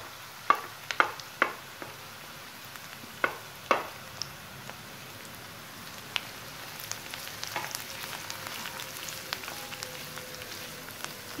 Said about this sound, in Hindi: तो मैं अभी इसमें जो है ये गाजर है इसको भी ऐड कर देती हूँ ताकि ये भी अच्छे से पक जाए।